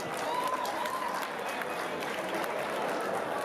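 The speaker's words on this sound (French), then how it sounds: "On les applaudit." An audience at a college event applauds steadily, a dense wash of clapping from a crowd holding at an even level throughout.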